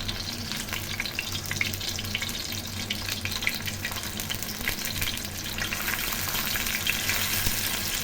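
Masala-coated sankara fish shallow-frying in oil gives a continuous close, loud sizzle with crackling bursts, steady throughout and with no talk.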